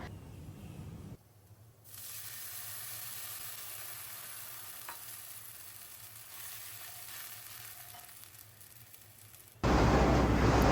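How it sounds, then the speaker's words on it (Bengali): Onions fry in hot oil with a steady, even sizzle that holds for several seconds and then swells into a much louder, harsher hiss at the very end. "পেঁয়াজটাকে ভালো করে বেজে নেব"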